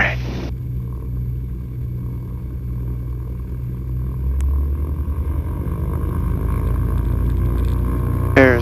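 A small aircraft engine at a Challenger runup holds a steady low rumble near 1800 RPM, swelling slightly in the second half, with a brief burst of radio chatter at the start and end.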